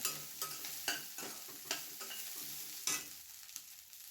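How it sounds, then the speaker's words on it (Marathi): Sweet corn sautés in oil in a pan over a low gas flame for corn thecha, a soft steady sizzle broken by regular scraping stirs of a spoon, quiet and close with no talking. "स्वीटकॉर्नही पाच मिनटं आपल्याला चांगले तेलामध्ये परतून घ्यायचे आहेत बारीक गॅसवर आपण परतून घेऊयात"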